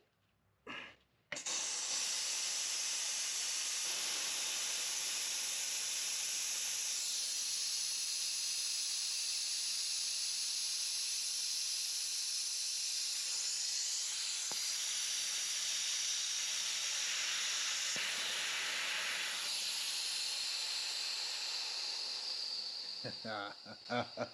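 A loud, continuous hiss of compressed air from a small air compressor blasts steadily for over twenty seconds after a brief click, blowing steel chips, with slight shifts in intensity.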